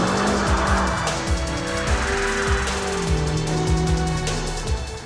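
A BMW M5 CS with all-wheel drive braking and cornering hard, its engine loud and close with repeated sharp downshift blips and rising revs, and tires squealing through the turn.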